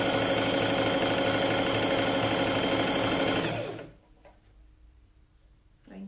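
A sewing machine stitches a coat in a steady, loud mechanical run for about four seconds, then stops, leaving a quiet room with faint handling noises before a brief whir at the end.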